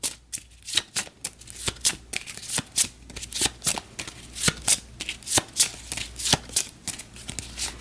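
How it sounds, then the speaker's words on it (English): A deck of cards being riffle-shuffled again and again, crisp rapid bursts of flicking close up, in a quick uneven rhythm. "So we'll give that a quick shuffle."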